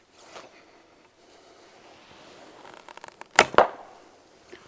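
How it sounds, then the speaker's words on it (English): Turkish-style laminated bow shot outdoors on a cold day, with two sharp, loud string-release snaps and arrow whooshes close together late in the clip, after quieter rustling and handling noise. "The sound this bow makes."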